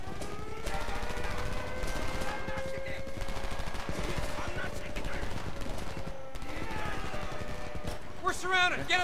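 Rapid machine gun bursts and scattered gunfire from the Homefront video game, dense and loud throughout, with a voice talking over the shooting and sharper bursts near the end.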